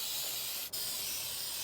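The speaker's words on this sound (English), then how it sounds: "From here, we're just gonna spray this on." Mo Deck nonstick aerosol sprayed onto a mower deck in an open garage, giving a close, steady hiss that runs throughout with one brief break partway.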